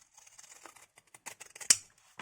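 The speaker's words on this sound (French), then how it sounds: "Il coupe vraiment très très bien. Même le tissu épais, je n'ai pas de problème, j'adore ces ciseaux." Scissors snipping through thick material during scrapbooking crafts, a quiet run of small crisp cuts ending in one sharper snip, close and alone.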